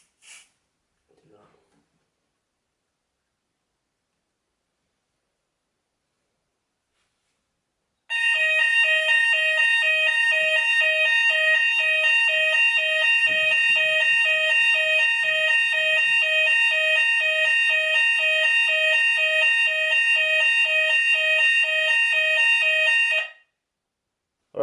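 A Hochiki ESP addressable fire alarm sounds during a system test, a loud steady pulsing electronic tone that starts after a few quiet seconds and runs unbroken for about fifteen seconds before cutting off.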